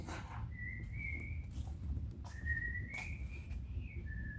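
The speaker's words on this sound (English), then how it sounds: "stop that whistling in my video" A person whistles a few sustained, wavering notes in short phrases over a low background rumble, with soft clattering noises between.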